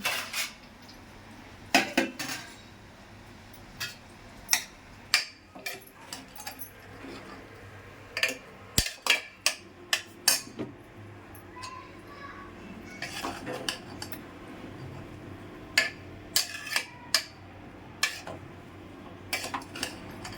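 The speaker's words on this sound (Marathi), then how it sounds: "आता मी परतते" A spoon stirs grated carrots in a metal pan while carrot halwa cooks at home. Irregular scraping and clinking against the pan continue for about twenty seconds at moderate loudness.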